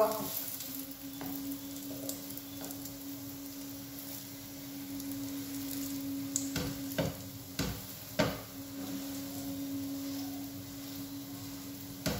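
French toast frying in a pan for breakfast, a steady soft sizzle running throughout with a few sharper clicks and scrapes near the middle, moderately quiet and without speech.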